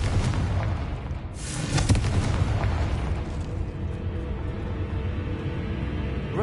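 Confringo spell blast in Hogwarts Legacy, a loud booming explosion with a rumbling, debris-filled tail that fades into steady noise.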